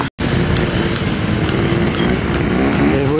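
A trials motorcycle rides a section at a New Year's Day trial at Lord Lane, its engine loud and close in a steady, unbroken drone for about three seconds.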